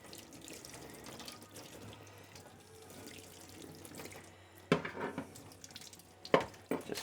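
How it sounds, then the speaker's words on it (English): Warm tap water runs steadily from a faucet into a sink, rinsing a Pinlock anti-fog visor insert, with louder splashing bursts toward the end as the visor is moved under the stream. "give it a good rinse with some warm water"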